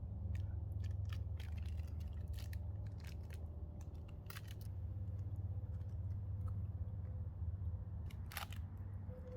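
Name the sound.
chewing a Nature Valley sweet and salty nut bar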